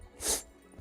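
A single short sneeze bursts out close to the microphone, sharp and breathy, then quiet follows.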